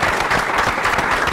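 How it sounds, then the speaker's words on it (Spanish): An audience gives Diego Maradona a short, dense burst of clapping in a television studio, steady and close throughout. "Le damos un aplauso al maestro de la..."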